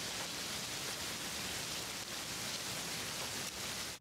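Steady rain pours in a TV episode scene, a dense, even hiss of falling water that holds at a low level throughout with no voices.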